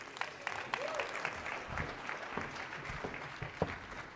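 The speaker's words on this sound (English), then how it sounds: "Round of applause, everybody." Applause rings out from the audience at the TechCrunch Disrupt 2024 conference stage, a crowd of scattered hand claps sustained over several seconds, moderately loud, with faint crowd murmur and the odd voice underneath.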